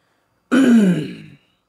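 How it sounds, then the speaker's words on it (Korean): A single deep throat clearing, close and loud, lasting under a second and fading out, with silence around it. "하고 헛기침을 했다"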